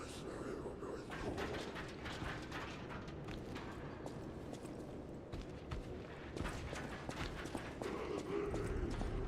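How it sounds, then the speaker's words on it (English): Faint, irregular footfalls patter in the video game Lies of P, several steps overlapping at a distance under a low ambient hum, with occasional soft mechanical clanks. "I hear so many footsteps, but I can't localize any enemies"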